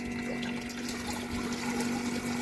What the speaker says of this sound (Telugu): ఇప్పుడు ఆన్ చేస్తున్నా మనకి నీళ్ళు వస్తున్నాయి ఇక్కడ చూడండి దీంట్లోంచి